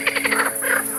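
Green frogs calling in a loud chorus at a zoo plain, dense overlapping pulsed croaks in rapid rhythm with no voices.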